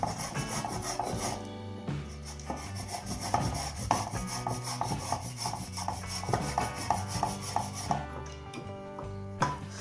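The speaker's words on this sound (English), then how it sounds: "First, grate your chocolate and put it into a small metal bowl." Rough, rhythmic rasping strokes of chocolate being grated repeat steadily over background music.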